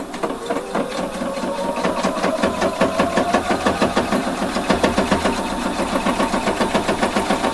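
A sewing machine stitching a fake double welt pocket runs in a fast, steady mechanical chatter. The rapid needle strokes keep an even rhythm throughout, close and loud, with no talk.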